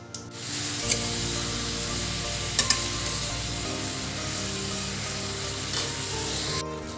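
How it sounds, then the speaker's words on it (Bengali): Ash gourd and prawns sizzle steadily in a hot pan, a constant quiet frying hiss with a few sharp pops and clinks of a utensil, and no one talking. "আজকে ভাবলাম যে চাল কুমড়ো দিয়ে চিংড়ি মাছের ঘন্ট রান্না করবো"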